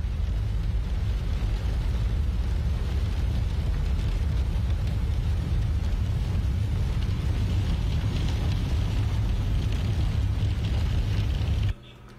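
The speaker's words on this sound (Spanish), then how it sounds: "Ay, en la Ciudad del Alto está granizando." Hail falling heavily in El Alto, a thick, unbroken roar of rattling impacts that holds steady at high loudness, then cuts off abruptly at the end.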